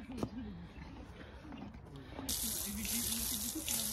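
Water from a hose sprays and gushes over a hot, sweaty horse after a jumping lesson, starting softly and swelling into a strong hiss halfway through while a person talks throughout.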